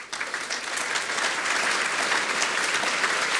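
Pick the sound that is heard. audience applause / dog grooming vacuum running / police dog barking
audience applause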